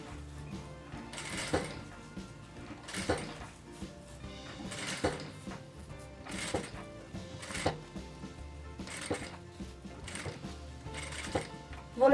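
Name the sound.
sewing machine stitching fabric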